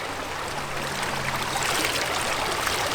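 Natural mineral water runs from an outdoor spot used for washing hands at a roadside stop on the way to Islamabad, a steady close rushing splash like a small stream, continuous and with no talking.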